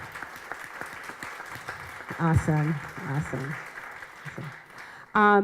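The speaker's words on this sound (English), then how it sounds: "So another round of applause for our students here." Applause for students rises at a Hartford education governance forum, with a clapping audience under a speaker's voice and a short exclamation from someone in the room, then a brief louder burst of claps at the end.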